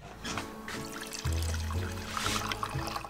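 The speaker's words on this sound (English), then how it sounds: "You need to pour acetone into a glass." Acetone poured into a glass, a short trickling pour that swells into a fuller gurgle near the middle and then tapers off, heard over quiet background music.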